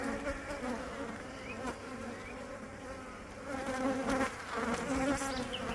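Honey bees buzz steadily in a dense, close swarm as a hive is opened for inspection, the drone swelling louder toward the end with no talking over it.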